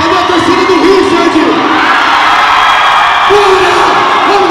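A crowd at the Pentagon Combat 22 amateur MMA event roars and cheers for a fighter, loud and continuous, with rising yells and whoops swelling across the whole stretch.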